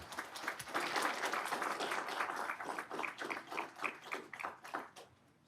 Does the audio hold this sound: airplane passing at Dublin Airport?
no